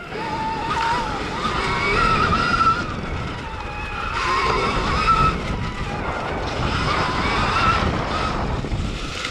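A Stark Varg EX electric dirt bike shreds offroad, its electric motor whine rising and falling in repeated surges over rough wind buffeting and dirt noise, close and steady.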